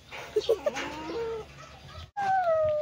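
A few short clucks from a chicken up close, followed by a sustained tonal call and a voice toward the end.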